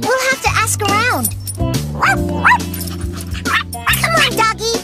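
A cartoon dog barks and yips repeatedly in short, excited bursts over a bed of music, with occasional speech mixed in.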